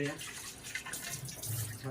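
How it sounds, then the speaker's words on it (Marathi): Running water splashing as a tawa griddle is rinsed in a home kitchen, a close, continuous wash with faint voices briefly underneath. "तवा घ्यायचा आहे तर धुवून"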